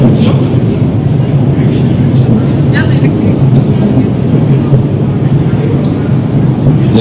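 An underground Moscow metro train produces a constant low rumble and roar with faint metallic squeals, steady and enveloping, while people talk over it.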